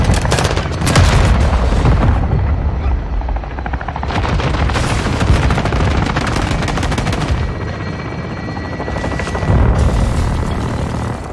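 Artillery fire strike in Call of Duty: Modern Warfare II, heard as continuous loud heavy gunfire and rumbling booms with rotor-like whir, sustained for about eleven seconds with brief dips and no talking.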